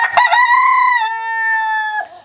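A rooster lets out one loud, close, drawn-out crow inside a big chicken coop, rising and then holding steady for about two seconds before cutting off.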